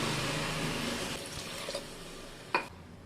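Coconut milk pours into a pot of sautéed rice with a steady, soft liquid rush that thins out, followed by a brief clink and splash near the end, close by and alone.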